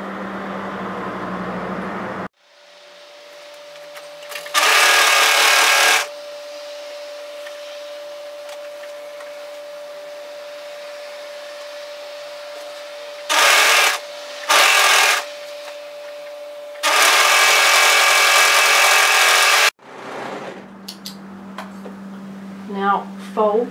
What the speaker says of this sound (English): Now we're going to overlock in the other sleeve.